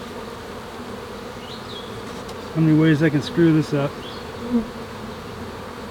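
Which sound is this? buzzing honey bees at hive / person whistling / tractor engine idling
buzzing honey bees at hive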